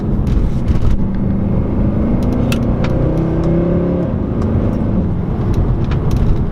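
A 2014 Mercedes C63 AMG engine rumbles and revs loudly from inside the car as it drives through a corner, with rising and falling tones and faint tire and interior noise.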